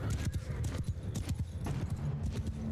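Horse hooves clip-clop in a steady, fairly close rhythm through a Mount & Blade II: Bannerlord battle, repeated thuds continuing for the whole stretch with no talk.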